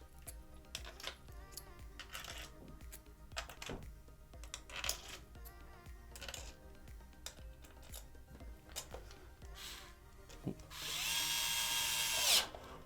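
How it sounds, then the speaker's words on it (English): Small screws are driven back into an Xbox Series S controller during repair, heard as a series of faint, close clicks and brief tool whirs with light handling clatter, ending in a louder burst of rasping noise. "You're going to grab those 7 screws you unscrewed earlier and put them back in there."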